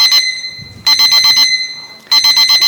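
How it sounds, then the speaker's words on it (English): A loud electronic alarm going off during a right-to-repair hearing at the Boston State House, with two long bursts of rapid, shrill pulsing beeps separated by a short quiet gap. "And wow, that was worse than my alarm this morning."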